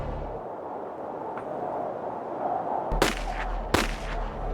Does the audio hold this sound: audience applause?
no